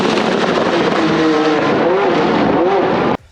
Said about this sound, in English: When you hear cars lifting off, you hear those pops and those bangs out the exhaust.